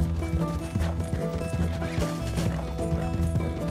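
Horse hooves clop in a steady rhythmic gait in the video game Red Dead Redemption 2, loud and close, with game sounds and a brief whinny-like tone in the mix.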